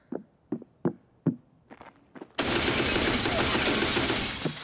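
Gunfire in Escape From Tarkov: a few sharp separate shots give way to a loud, dense, sustained burst of automatic fire that keeps going to the end.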